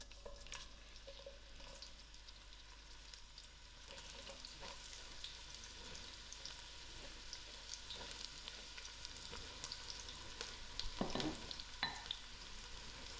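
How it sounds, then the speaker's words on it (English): Onions frying in hot oil in a preheated pot for a goat curry, a soft, steady sizzle heard close and alone, with a few faint clinks and a slightly louder burst near the end. "I'll allow my onions to fry out soft"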